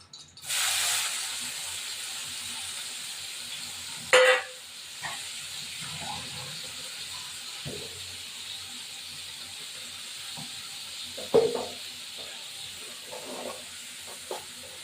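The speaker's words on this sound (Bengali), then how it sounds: "এবার চিংড়ি মাছটা ভাজা হোক" Prawns frying in hot oil give a low, steady hiss, with a sharp burst of sizzle near the start and a few brief louder spits and clatters later, with no voices.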